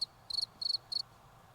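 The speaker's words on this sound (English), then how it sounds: "Did you just play crickets at me?" Four short, high cricket-chirp bursts from a sound effect, evenly spaced and clear against near silence, with no talking.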